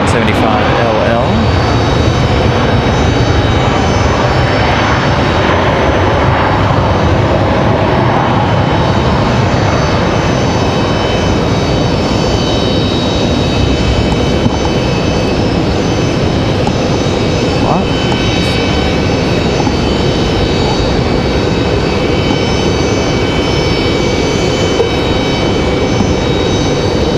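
A Mesa Airlines United Express Embraer E175 jet from Houston touches down at Raleigh-Durham, a loud, close engine roar with high whining tones that slowly fades under continuous talk.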